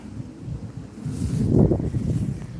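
Wind gusts through backyard trees, including walnut and black cherry, swelling into a soft rushing whoosh midway before easing slightly.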